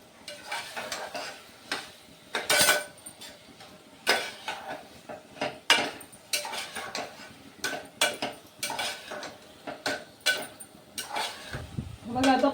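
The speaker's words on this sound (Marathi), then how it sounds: "आता मी प्रॉन्स टाकून घेते त्याच्यामध्ये आणि प्रॉन्स थोडे परतून घेते मसाल्यामध्ये" Prawns sautéed and stirred in masala with yogurt in a pan, scraping spoon clanks and metallic clinks in irregular bursts, close and moderately loud, with a faint sizzle underneath and no talking.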